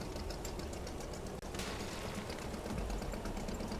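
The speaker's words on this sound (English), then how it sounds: "The putt-putt engine going again." Putt-putt boat engine in the fishing video game Fishing: Barents Sea, a steady broadband chugging that runs through the whole stretch at a constant level, with a brief dropout near the middle.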